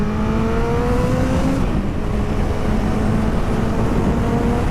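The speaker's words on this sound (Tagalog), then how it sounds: "Pucha, ang lakas ng motor." A Kawasaki ZX14R motorcycle accelerates hard on an open road, its engine note climbing in pitch through the gears under heavy, loud wind rush.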